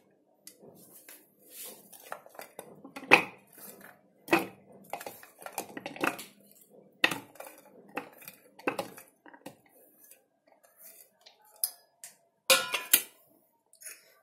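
Chopped onions and green chillies dropped by hand into the plastic jar of a Glen GL 4043 mini chopper, with soft scattered taps, clinks and rustles close by.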